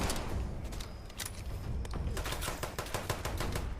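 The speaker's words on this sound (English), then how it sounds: "Okay, and that is a grenade." Gunfire and explosive combat in Fallout 76 around a thrown grenade, a dense run of sharp cracks and bursts with no pause, loud and busy throughout.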